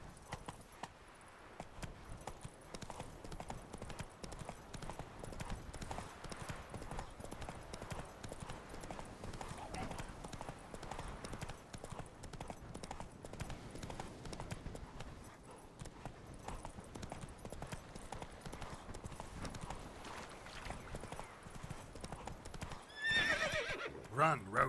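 Roach, a horse in the video game Witcher 3: Wild Hunt, gallops with steady, rapid hoofbeats and neighs once near the end, with a voice speaking over the running.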